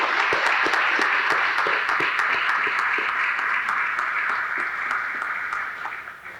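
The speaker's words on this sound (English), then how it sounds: "a round of applause for all the folks who have worked this." Sustained applause from an audience at a military change of command ceremony, a dense steady wash of clapping with a few sharper claps, holding loud throughout and fading slightly at the end.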